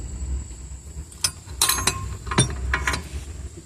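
A wrench torques the wheel hub bolts on a 2004 Volvo S60 AWD during a front hub replacement, a few sharp metallic clicks and clinks in separate bursts over a low background.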